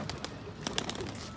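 Pigeons kept by a keeper coo in short, soft bursts close by, with a faint flutter among the calls.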